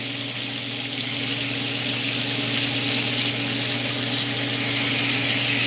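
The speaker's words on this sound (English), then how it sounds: "then I'm going to wash my hands" A steady, loud hiss of tap water runs without a break while hands are washed in a kitchen during chocolate-covered bacon preparation.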